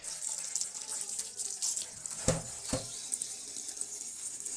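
Tap water runs in a kitchen sink while beef trotters (paya) are rinsed, a continuous hiss with a couple of sharper splashes or knocks partway through, fairly close and without talk.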